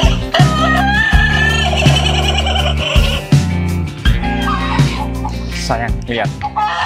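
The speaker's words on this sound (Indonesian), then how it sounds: "Ada ayam berkokok." Chickens cluck and crow at a house, mixed under loud music with a person speaking briefly.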